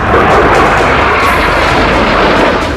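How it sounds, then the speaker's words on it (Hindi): Fighter jets fly overhead with a steady, loud broadband engine roar that holds throughout, dense and close, with no voices. "आसमान में उड़ान भरते फाइटर जेट।"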